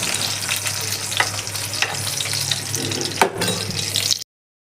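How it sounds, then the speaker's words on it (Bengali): Sausages fry in a pan with a continuous bright sizzle, broken by a few stirring scrapes, before the sound cuts off abruptly into silence. "এই জন্য একটু ভাবলাম যে সসেসটা একটু ভেজে দিই"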